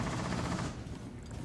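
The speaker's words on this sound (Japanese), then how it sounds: "こっから発砲音が。" Dense bursts of distant gunfire in the video game Rainbow Six Siege crackle continuously, with a sustained low rumble underneath and no talking.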